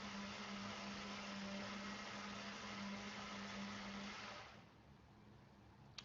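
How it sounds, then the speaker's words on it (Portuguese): A blender mixing a whey protein shake, a steady dense whirring roar with a low motor hum that cuts off near the end, leaving a quieter room tone. "Estão ouvindo meu vizinho aí usando o liquidificador?"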